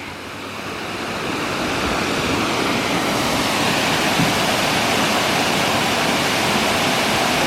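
Fast creek water rushes in a loud, constant roar, close by and unbroken throughout, with no voices.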